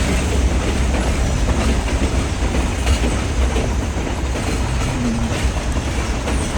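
Train cars roll past up close on a heritage railway in Bryson City, North Carolina, a loud continuous rumble with faint clickety-clack from the wheels and no voices.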